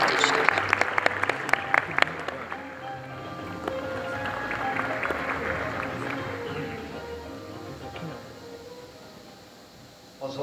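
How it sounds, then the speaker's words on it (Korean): Audience applause welcoming a professor to the stage at a UN climate change event in a Songdo convention centre, dense clapping that is strongest early and fades gradually, with a voice briefly heard over it. "교수님을 박수로 맞아주시기 바랍니다."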